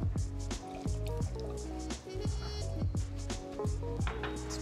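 Filter coffee drains through a V60 dripper in soft, rhythmic drips and trickles, fairly close and quiet, with no voices.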